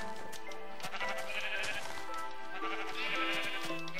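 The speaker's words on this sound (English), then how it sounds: "There's a lot of sheep here." Sheep in the Minecraft video game bleat repeatedly, a steady run of loud, wavering game-animal calls layered close together with no talk over them.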